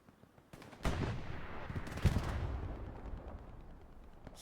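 Machine gun fire rattles in Hell Let Loose on Omaha Beach, a dense, continuous burst of gunfire with heavy booming impacts mixed in, loud and sustained after a quieter opening.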